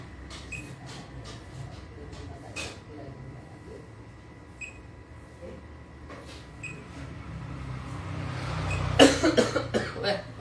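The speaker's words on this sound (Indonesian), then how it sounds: "Batuk kok ngene iki." Several brief coughs near the microphone against a low background hum, ending in a louder burst of noise.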